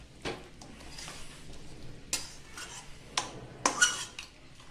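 A metal spoon scrapes and clinks against a cooking pot while chili powder is mixed into meat: a few sharp taps and scrapes spaced irregularly, fairly quiet and close, with no talking.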